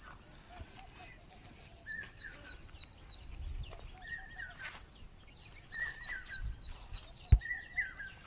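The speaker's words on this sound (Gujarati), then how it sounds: "જો પક્ષી બોલે છે ને ચાલુ છે આપણા આખા વિડીયોમાં આવશે" Birds sing in a farm garden beside a cowpea field, with short repeated chirps and warbles rising over a faint outdoor background and occasional soft knocks.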